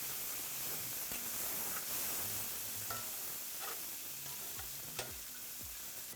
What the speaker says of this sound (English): Keep on cooking on the other side.